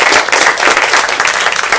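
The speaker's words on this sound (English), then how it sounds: "Can we give them a round of applause?" A panel audience gives a round of applause, dense and steady clapping from many hands filling the room at a fairly loud level without pause.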